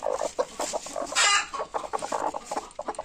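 Hens cluck close by in quick, uneven bursts, with one louder squawk partway through and no talking.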